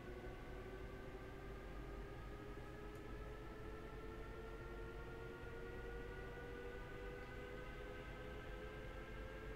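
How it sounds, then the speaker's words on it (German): An S-Bahn train in the Train Sim World game sets off from Leipzig, a steady rumble of the rail car with rising tonal motor whine, heard alone and continuously. "Eine S-Bahn fährt los."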